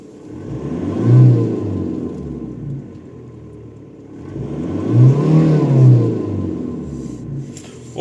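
A car engine revving up to around 5000 rpm, with two swelling rises and falls in engine pitch as the throttle is pressed and released, loud and close with no talk.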